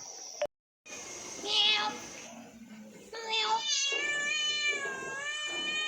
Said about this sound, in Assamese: মিয়াও মিয়াও কৰি আছে, ভোক লাগিছে চাগে মেকুৰীটো